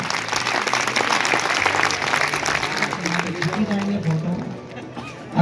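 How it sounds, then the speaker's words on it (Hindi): An audience at a Hindi comic poetry gathering claps loudly and steadily for several seconds, the applause thinning toward the end with some voices mixed in. "इस बात पर जरा एक बार जोरदार तालियां बजा दें।"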